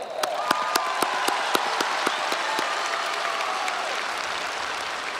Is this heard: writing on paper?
no